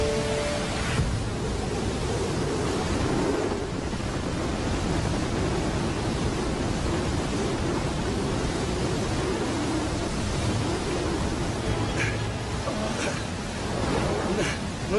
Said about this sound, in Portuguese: Peter tenta me proteger da forte correnteza que puxa nossas pernas sob a água.